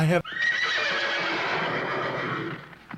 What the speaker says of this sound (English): I'm going to put the horse sounds in